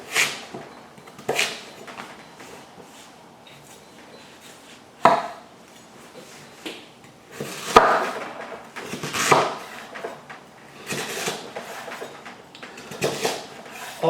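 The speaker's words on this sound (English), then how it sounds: "now face down, keep the tip touching, and then draw the knife downwards" A kitchen knife cuts through butternut squash on a board: scattered sharp knocks and scraping slices land irregularly, some loud and crisp, others softer, with quiet pauses between strokes.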